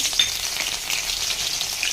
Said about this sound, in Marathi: त्याच्यामध्ये तेल आता गरम झालेलं आहे. त्याच्यामध्ये टाकूया हिरवी मिरची